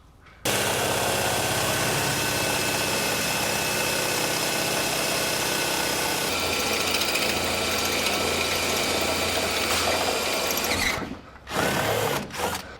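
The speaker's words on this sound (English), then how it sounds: "So we'll need to drill out this hole to 5/16 of an inch" A power drill bores a 5/16-inch hole through the steel frame of a 2019 Chevrolet pickup, a loud, continuous whine held for about ten seconds, then a few short bursts as it stops and restarts.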